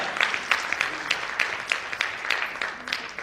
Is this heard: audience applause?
yes